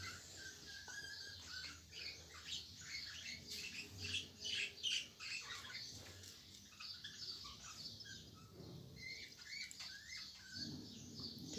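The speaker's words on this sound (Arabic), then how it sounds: "كتسمعوا العصافير ديالي اللي مربيهم يغوتوا" Pet birds kept at home chirp and squawk in quick, irregular bursts, faint and somewhat distant, with scattered rustling and patter in between.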